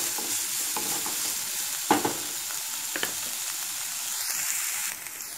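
Onions and dried red chillies sauté in a pan with a steady close sizzle, broken by a few sharp scrapes and knocks of a spatula stirring them; no voices.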